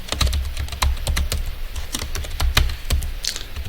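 Rapid typing on a computer keyboard while entering an address into a Microsoft Access query, crisp close keystrokes in quick irregular bursts with no talk.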